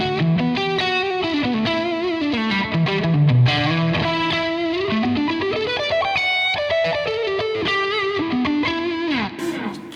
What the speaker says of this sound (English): And then you kick in the overdrive.